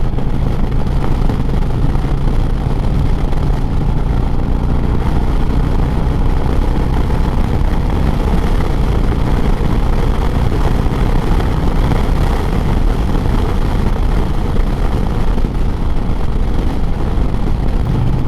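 Steady low engine rumble of a new 2025 Harley-Davidson Street Glide FLHX motorcycle on a ride, loud and continuous with constant wind and road noise, no voices.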